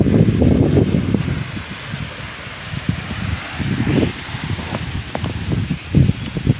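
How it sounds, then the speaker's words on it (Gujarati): Steady wind rushing through leafy branches, a continuous soft rustle with gentle swells, outdoors and moderately close, no voices. "મસ્તીનો પવન આવે."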